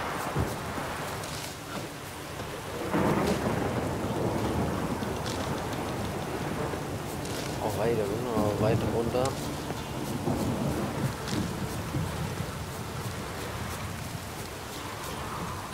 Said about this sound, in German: Ein Sturm, verdammt.